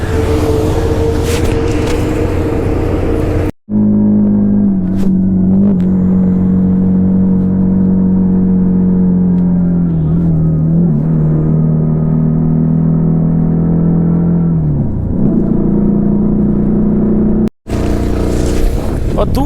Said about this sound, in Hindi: फिर से गाड़ी को पहले गियर में डालना पड़ेगा तब जाके यहाँ पे गाड़ी चढ़ेगी